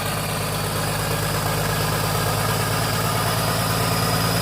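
A Hitachi ZX200-1 excavator engine runs at a steady idle in a repair shop during pump repair work, giving a continuous, even low rumble with a constant pulsing throb and no talk.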